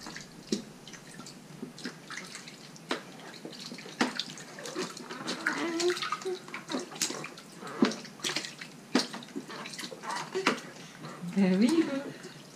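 A baby is bathed in a tub, with light water splashes and drips throughout as someone talks softly and affectionately in French, and the baby makes small vocal sounds near the end.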